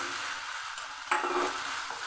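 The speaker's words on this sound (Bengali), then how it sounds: "পটল দিয়ে আমি আর একটু কষে নিচ্ছি" Pointed gourd fries with cumin, coriander and turmeric spices in a pan, a soft steady sizzle with one scraping stir partway through, quiet and brief, no talking.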